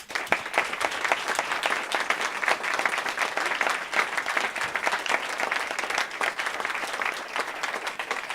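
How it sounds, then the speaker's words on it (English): An audience applauds storytellers at a live storytelling show, a loud, continuous burst of many hands clapping with crisp individual claps standing out, sustained for the full eight seconds. "Can you keep your applause going for all our storytellers, please?"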